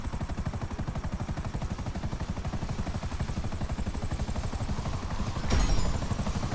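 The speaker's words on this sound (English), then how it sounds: "There's the two choppers chasing you down." Two helicopters pursue the player in GTA 5, their rotors chopping in a fast, steady pulse that stays loud and close throughout, with a heavier thump and burst near the end.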